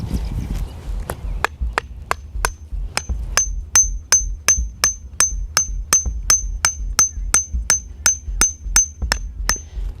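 Stakes for a tipi being hammered into the ground outdoors, a steady run of sharp, evenly spaced impacts about every half second, close and loud, with no talk.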